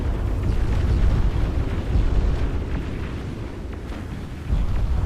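Torpedo explosions in the Beyond All Reason strategy game form a loud, continuous rumbling roar, dense and sustained, with a fresh surge near the end and no speech.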